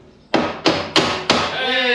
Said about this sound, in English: Yours needs a bit of tappy tappy.